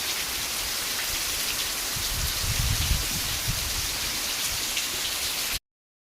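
Rain pours steadily over a village in an even, close hiss of drops on surfaces, swelling slightly in the middle before cutting off abruptly near the end.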